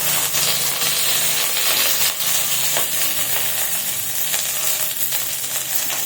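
Curry leaves dropped into hot oil alongside fried peanuts hiss and crackle in a loud, dense, continuous sizzle with small popping spatters, close up and with no talking.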